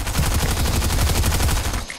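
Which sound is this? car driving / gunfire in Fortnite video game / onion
gunfire in Fortnite video game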